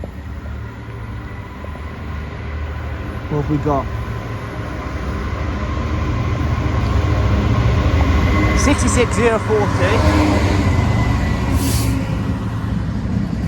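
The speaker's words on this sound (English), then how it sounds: "I have a freight about to pass by going from Downsmoor to Ditton, but I can also hear Pendolino behind me." A freight train passes close by on the West Coast Main Line, a sustained loud rumble and rail noise building over the seconds, with a Pendolino class 390 heard behind it and brief brake-like squeals; someone speaks over it at the start.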